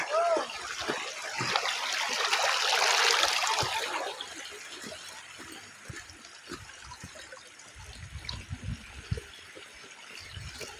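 Water flowing in a stream, a broad rushing wash that swells in the first few seconds and then eases into a steadier, quieter flow, with voices talking over it and some low knocks toward the end.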